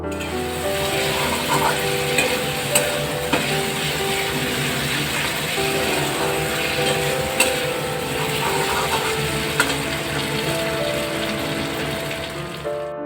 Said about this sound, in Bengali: আদা বাটাটা দিয়ে আর একটু কষিয়ে নেব